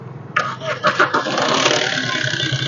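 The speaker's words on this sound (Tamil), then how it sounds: "இன்ஜின் சவுண்டை பார்த்தீங்கன்னா நான் காட்டுறேன்" A used Swift car engine cranks with a few quick bursts, then catches and settles into a steady running rumble, close and fairly loud.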